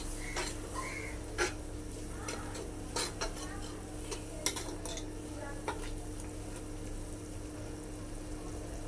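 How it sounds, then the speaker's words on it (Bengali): Spice paste with coriander powder and cumin being stirred and fried in a pot for mixed khichuri, a steady low sizzle with scattered scraping clicks of a spoon against metal, close and continuous with no talk. "মশলাটা ভালোভাবে কষিয়ে নিব।"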